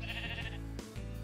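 A pen in the video game Minecraft holds sheep, one giving a short, wavering bleat up close over steady background game noise, with a brief thump after it.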